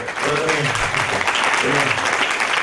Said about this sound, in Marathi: नापास झाल्याबद्दल टाळ्या वाजवतात खूप